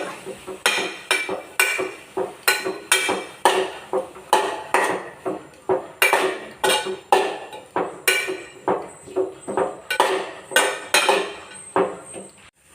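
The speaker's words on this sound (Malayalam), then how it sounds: "ഇതെല്ലാം കൂടെ ഒന്ന് ചിക്കി കൊടുക്കുക." Ivy gourd thoran being tossed with a metal spatula in a pan, making steady rhythmic scraping clanks of about two per second that stay close and fairly loud, with no voices.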